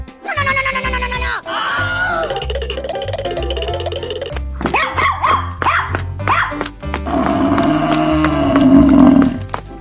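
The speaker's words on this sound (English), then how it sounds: "Dog." A dog barks in a 3D animal slide video game, heard amid busy game music and sound effects, with a few sharp barks near the start, then a continuing loud wash of game audio and effects.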